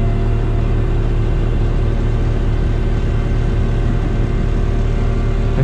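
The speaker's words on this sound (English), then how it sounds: "we'll put this boom away now" Steady engine rumble of a tow truck as its boom is stowed after hauling a busted-up leaf-spring box truck, a constant, loud, even drone with no breaks or talking.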